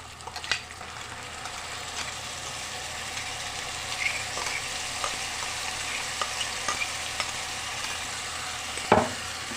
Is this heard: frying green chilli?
yes